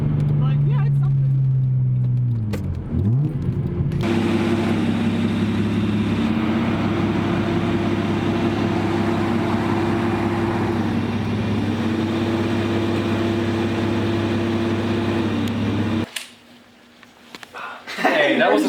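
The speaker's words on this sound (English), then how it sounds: "I do really like how this engine sounds" A Nissan Z31 with a leaking flex pipe idles with a steady low rumble that runs at a constant pitch for long stretches and rises briefly near the start, with people talking over it.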